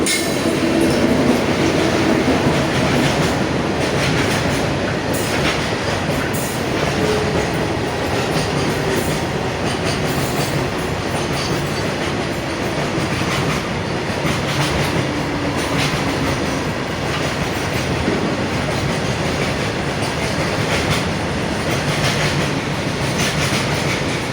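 A slow local train bound for Parel rumbles steadily past at a Mumbai station platform, close and loud, with rhythmic clickety-clack of wheels and faint squeals throughout, no talking.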